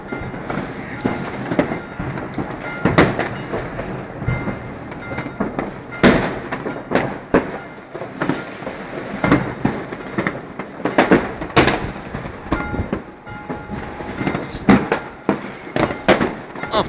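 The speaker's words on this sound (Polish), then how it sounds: "w tym roku nie ma tak dużo fajerwerków efektownych, kolorowych" New Year's fireworks exploding outdoors, a dense run of sharp bangs and crackling bursts at varied distances, some loud and near, over a rumbling background.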